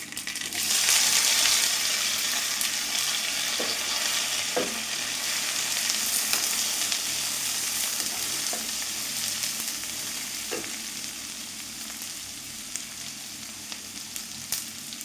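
Chopped onions, a small piece of ginger and curry leaves fry in a pan for an egg curry, a continuous sizzle with scattered stirring clinks and scrapes, the hiss loudest at the start and easing slightly.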